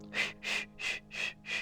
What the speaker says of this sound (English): You hear that? You're breathing in,